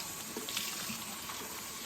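Faucet water running steadily as a washcloth is rinsed clean of soap at a sink, a continuous soft splashing hiss, close and alone.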